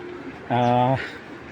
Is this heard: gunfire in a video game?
no